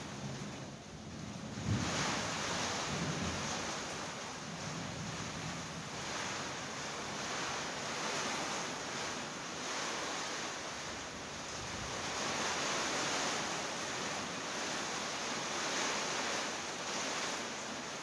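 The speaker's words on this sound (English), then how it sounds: "Yeah, it's coming down pretty hard." Heavy storm rain pounding a garage door, a dense, even hiss of downpour with gusty wind that holds steady and close, with no one talking.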